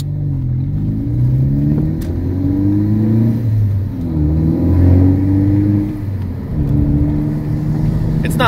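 A 2017 Ford Focus ST with a Borla cat-back exhaust revs and drives, its engine rising and falling in steady pulls of mid-pitched drone throughout, close and fairly loud.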